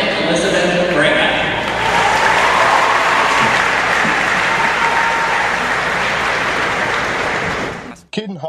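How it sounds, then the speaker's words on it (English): Loud, sustained applause from friends and parents filling a graduation ceremony hall, a dense wash of clapping that holds steady for about eight seconds before cutting off abruptly. "they were greeted by thunderous applause from the gathered friends and parents"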